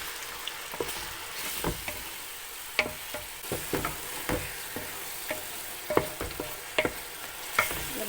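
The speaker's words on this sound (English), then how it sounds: "To this I am going to add the masala that we ground." Ground masala frying in a pan with ginger garlic paste, tomatoes and onion, a low continuous sizzle broken by frequent sharp scrapes and taps of a spoon stirring, close and fairly quiet with no voices.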